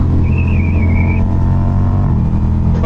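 A Ducati Diavel V4 motorcycle engine rumbles loud and close in a deep steady drone, with a faint whine riding above it and no voices.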